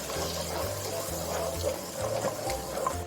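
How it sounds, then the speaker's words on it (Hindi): Water is poured into a pan of onion, yogurt and spice paste for an egg curry, a steady close gurgle and splash over a low background hum. "इसके अंदर थोड़ा सा पानी ऐड कर देंगे हम और फिर भूनेंगे।"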